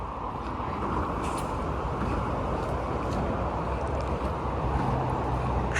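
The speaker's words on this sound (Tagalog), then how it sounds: "Ayan yung mga dumadaang mga sasakyan eh oh." Continuous broadband roar of traffic on a New Zealand motorway, a steady wash of tyre and wind noise with no distinct individual passes and no talking.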